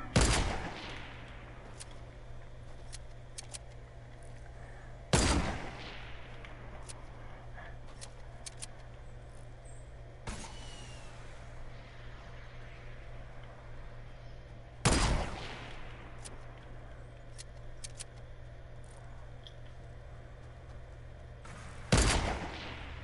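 Rocket fire in the Fortnite video game: four sharp, loud blasts spaced several seconds apart, each followed by a decaying rumble, over a quieter bed of clicks and game noise.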